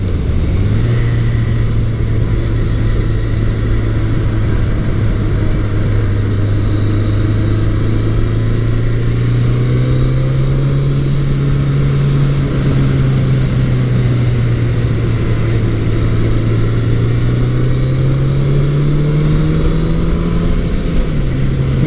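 A 1983 Suzuki GS1100E motorcycle engine drones loudly and continuously while riding, its steady low hum rising and falling gently in pitch with throttle, under rushing wind noise.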